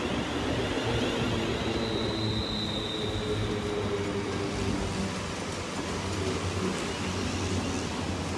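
London Northwestern Railway train arriving at Stafford station on the West Coast Main Line, a loud, continuous rumble of wheels and engine close by, with a faint high squeal rising briefly in the middle.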